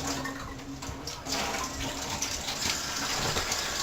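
Lukewarm water is poured into a mixing bowl for homemade bread dough, giving a steady close gushing splash that thickens partway through and keeps running.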